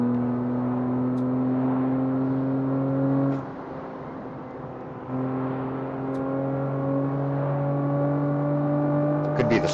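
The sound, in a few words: car engine at speed in CarX Street video game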